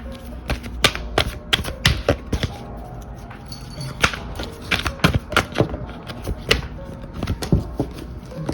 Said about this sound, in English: I'm going to start by shuffling our cards.